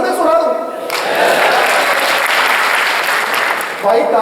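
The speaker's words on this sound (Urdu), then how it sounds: "بھائی تالی شعر کے بعد بجا سکتے" An audience claps in sustained, dense applause at a motivational talk, loud and close, with a voice speaking briefly before and after.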